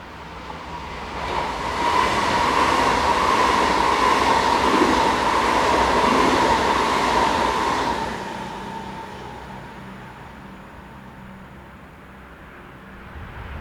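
Swiss Class 502 train set 502006 passing on the Sargans to Zürich mainline, a loud rushing roar with steady rail noise that builds, holds for several seconds, then fades as it moves away.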